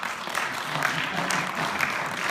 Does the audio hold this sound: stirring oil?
no